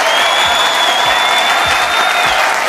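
A stand-up comedy audience applauds loudly and continuously as comedian Amanullah comes on stage, a dense, even clapping that fills the whole stretch.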